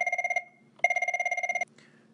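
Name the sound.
telephone ringing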